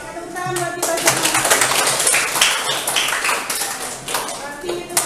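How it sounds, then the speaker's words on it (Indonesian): Classmates in a school classroom clap together in a brisk burst of applause that rises, holds for several seconds and then thins out. "Tepuk tangan buat kita semua."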